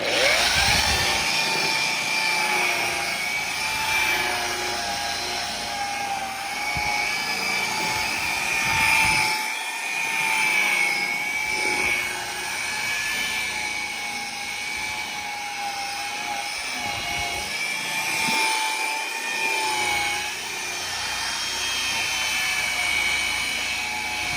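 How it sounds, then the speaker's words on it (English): A power buffer polishes a cloudy car headlight, a continuous high-pitched whirring drone that wavers slightly in pitch and load for the whole stretch, loud and close with no talk. "Now I'm just going to buff it a little bit better with the polish."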